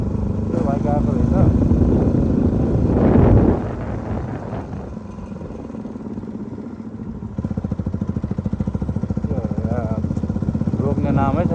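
A motorcycle approaching and passing on a road, its engine rising to a close roar then dropping away to a steady idle-like rumble, with people talking over it.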